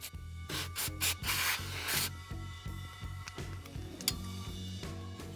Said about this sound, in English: And then I had to get all that rust out the float bowl